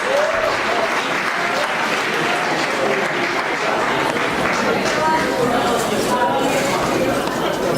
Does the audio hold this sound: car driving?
no